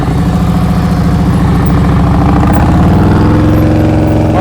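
A motorcycle engine runs steadily at low revs during slow-speed riding practice. The thrum is loud and close, with the pitch rising slightly near the end, and no voices are heard.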